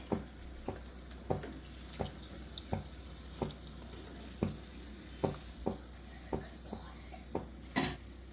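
Wheat flour snack deep frying in oil over a medium flame, a steady close sizzle with soft regular clicks of a utensil stirring and lifting pieces about once a second.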